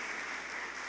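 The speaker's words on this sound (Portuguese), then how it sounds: "Os irmãos podem aplaudir o Senhor pela vida deles" Brief burst of church congregation applause, an even wash of clapping heard at moderate level with no voices over it.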